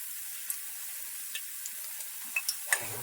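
Vegetables frying in hot oil give a steady soft sizzle, with a few sharp pops and crackles spaced out near the end and a louder spatter at the close, with no voices.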